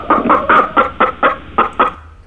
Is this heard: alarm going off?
no